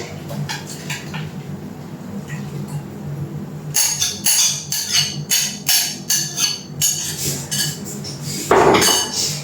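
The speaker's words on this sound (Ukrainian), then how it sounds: "добре перемішуємо, щоб кожна наша джерка покрилася маринадом" Turkey meat for jerky being tossed with marinade in a bowl, giving a run of close, rhythmic clinks and knocks against the dish in the second half after quieter handling at first.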